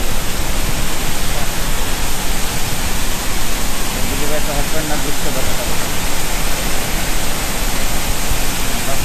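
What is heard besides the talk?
Savdav Waterfall in Sindhudurg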